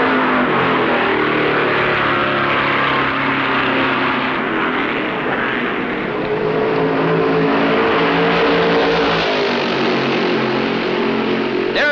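Stock cars race past in the 1965 Southern 500 at Darlington, a loud, continuous roar of engines droning throughout with no break, shifting slightly in pitch as cars pass.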